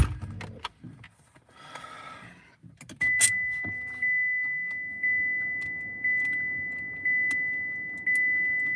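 Someone climbs back into a rideshare car with a brief jangle of keys and door shuffling, then a steady ticking chime, likely the door or seatbelt warning, repeats about once a second inside the quiet cabin.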